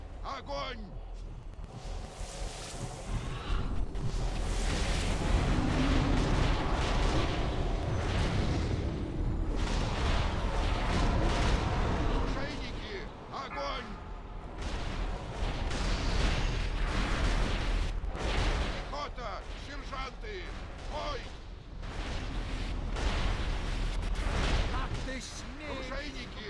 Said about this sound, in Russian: Пусть заткнет эти пушки!